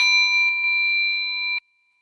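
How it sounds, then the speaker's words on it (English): A single meditation bell strike rings out with a clear, bright tone, sustaining steadily for over a second before cutting off abruptly into silence. "But this is the sound of the bell."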